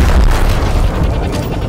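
A frag grenade detonates in Gears Tactics, one loud, close, deep boom whose rumbling blast fills the whole moment and rolls on without fading.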